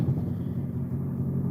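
A car's engine and exhaust rumble loudly and steadily after someone tried to steal its catalytic converter, a deep continuous low drone close by with no talk over it.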